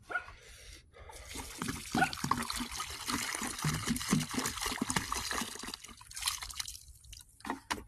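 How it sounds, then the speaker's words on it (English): Water drains and trickles out of the fuel tank of an old 1955 car, a steady splashing dribble with a dog barking nearby. "I'm just trying to drain as much water out of that tank"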